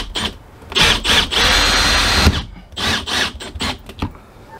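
A cordless drill drives a screw into an RV window frame, with short bursts of whirring motor and a longer sustained run, close and loud, stopping and starting with trigger control.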